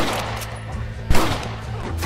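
Gunfire in the Western game Red Dead Redemption: one sharp shot stands out midway above a dense, steady bed of game noise, with no speech.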